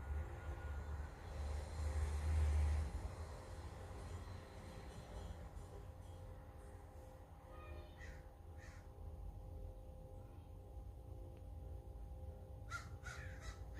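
A crow caws a few times, harsh and fairly distinct, over a continuous low rumble of a passing train that runs through the whole stretch; no one speaks.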